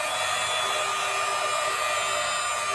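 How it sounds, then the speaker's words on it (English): A heat gun blows steadily over a watercolor painting to dry the paint, giving a constant broadband whoosh with a faint whine that runs without break, loud and close, with no talking. "So just using my heat gun, a blow dryer will do the same job."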